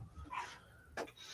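Dogs give two short, faint barks a moment apart, sounding distant, with no talking around them.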